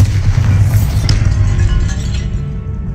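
Loud, deep explosive rumble from the Bombarda blasting spell in Hogwarts Legacy, a sustained booming roar with faint glassy debris clinks scattered over it, close and filling the whole moment without speech.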